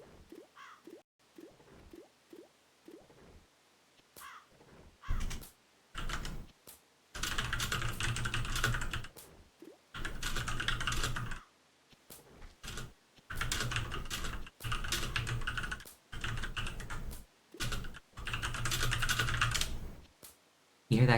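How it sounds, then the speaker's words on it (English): Mechanical keyboard clicking in quick bursts of typing, close and moderately quiet, with short pauses between runs of keystrokes and no talk. "You hear that clicking? That's a mechanical keyboard."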